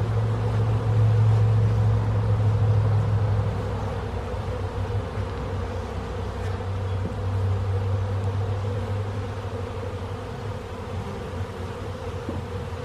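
A steady, dense drone of many honey bees buzzing close by at a hive, a continuous hum that swells slightly at the start and then holds level.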